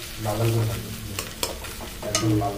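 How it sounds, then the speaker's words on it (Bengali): An egg and vegetables sizzle and fry in a pan while being stirred for chow mein, with a steady hiss, several scraping clinks of the spatula and lower rumbling tones underneath. "এবার ডিম দিয়ে আমি সবজিটা ভালো করে ভেজে নিয়ে তারপরে চাউমিনটা দিয়ে দেবো।"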